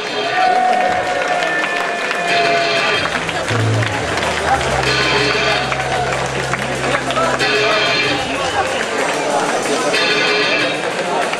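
At a K-1 kickboxing event, a crowd applauds and cheers for a fighter in the red corner. The noise is dense and steady, and an announcer's amplified voice carries over it throughout.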